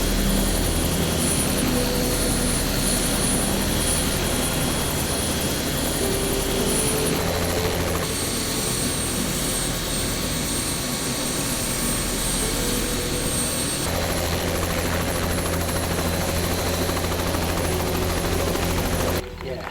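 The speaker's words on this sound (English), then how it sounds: "The drones can fly in this weather, believe it or not." Drones flying in bad weather in a video game, a steady loud engine and rotor drone that runs unbroken for about twenty seconds, shifting tone partway through, with no voices.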